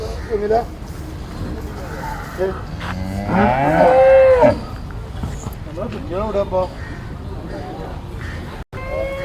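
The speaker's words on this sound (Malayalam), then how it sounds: "ചന്തയിൽ കണ്ട മറ്റു പശുക്കളാണ് ഗിർ" Gir cattle at a cattle market give a drawn-out moo near the middle, with a few shorter lows after it and people talking in the background.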